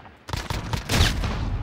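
Rapid gunfire in the Modern Warfare video game, a loud burst of overlapping shots that thickens into sustained fire, with no talking over it.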